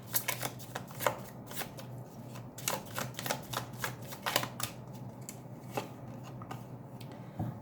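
Tarot cards shuffled and drawn, a steady run of close, crisp card flicks and taps at an uneven pace over a low, constant background hum, with no talking.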